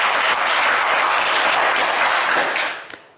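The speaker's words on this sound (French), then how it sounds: "Allez, Béranger, on vous applaudit quand même très fort." Studio audience on a French TV quiz show applauding a contestant after a wrong answer: loud, dense, sustained clapping that fades out at the end.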